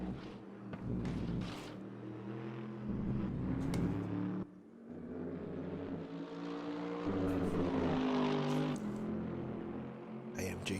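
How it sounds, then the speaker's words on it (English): Throaty AMG car engine in a racing video game, a sustained droning growl that rises and falls with a brief dip partway through, heard fairly faintly. "AMG sounding very throaty"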